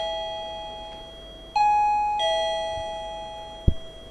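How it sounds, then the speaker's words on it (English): A timekeeper's bell rings at a debate, two clear chime strikes ringing out and decaying, followed by a soft knock. "The first bell is a warning bell, and it simply means you have 1 minute left to summarize the point."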